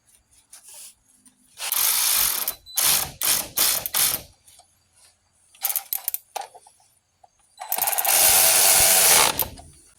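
A ratcheting torque wrench tightens the caliper bolts on a Lincoln Town Car, loud close clicking in three quick bursts separated by pauses, then one longer run of rapid clicks.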